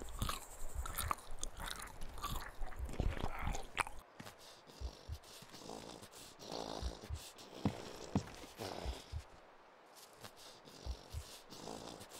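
A DayZ character eats sardines, with repeated wet crunching and chewing bites, close and loud at first, then softer irregular munching continuing alone.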